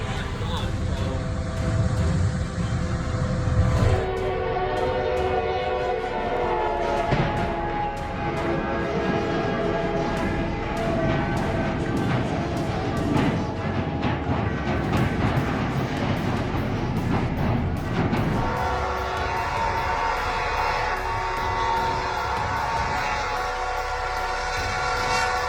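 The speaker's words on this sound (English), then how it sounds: "A train in Alto, Texas, collided with a truck stuck on the tracks, causing a derailment." A train horn blares in long sustained blasts over the heavy rumble of a train rolling along the tracks in Alto, Texas, where it struck a truck stuck on the crossing. The sound stays loud and continuous throughout.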